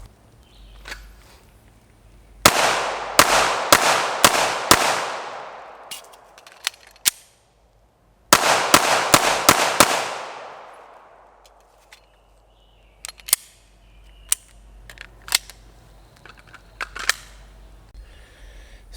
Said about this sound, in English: The gun is super fun to shoot.